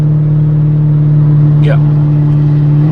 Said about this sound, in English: it seems like it's slipping a ton right now.